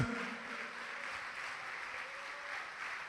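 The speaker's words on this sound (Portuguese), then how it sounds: "Vamos aplaudir ao Senhor por isso." A church congregation applauds together in steady, sustained clapping that fills the room evenly, with no voices standing out.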